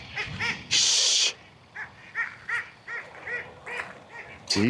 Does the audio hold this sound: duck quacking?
yes